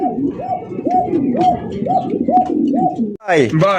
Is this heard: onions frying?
no